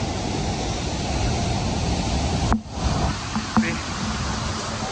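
Vernal Fall in Yosemite Valley roars in a continuous broad rush of falling water, briefly dipping midway before resuming at full strength.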